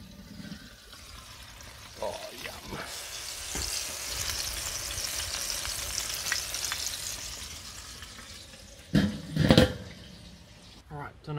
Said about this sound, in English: The pork is sizzling away.